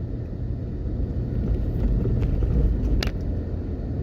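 A car drives along Shortwood Road, a mostly residential street in Jamaica, heard from inside as a steady low road rumble with wind noise and a few faint clicks and no talking.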